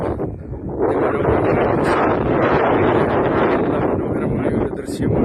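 Strong gusting wind at the Ottakathalamedu hilltop viewpoint in Kumily buffets the microphone in a loud, steady rush, easing briefly at the start and end.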